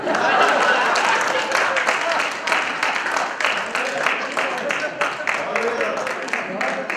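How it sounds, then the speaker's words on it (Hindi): Applause and clapping from a comedy show audience, a dense crackling wash of many hands that holds steadily for several seconds at close range. "और तालियां तो इस बार बजेंगी"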